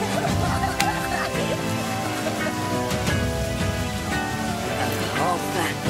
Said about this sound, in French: heureusement qu'il pleut.